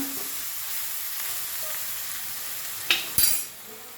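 A mixture roasting in a pan on a low flame, a faint even hiss of frying with a couple of clinking utensil knocks toward the end, close and quiet, no voices.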